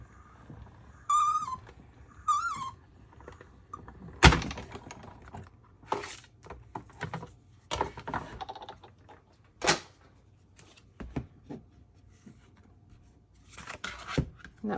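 A 3D embossing folder is cranked through a manual embossing machine with a gray plate. Quiet clicks and thunks come in irregular bursts, with a few sharp knocks and faint rustling between them.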